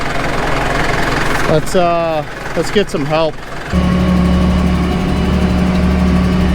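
A tractor stuck and buried in the ground idles with diff lock and four-wheel drive engaged, a low steady engine rumble that jumps louder near the end after someone speaks briefly over it.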